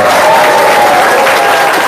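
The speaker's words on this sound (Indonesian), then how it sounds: "Tepuk tangan dulu dong." Dense, loud applause from an audience in a seminar room fills the whole moment without pause.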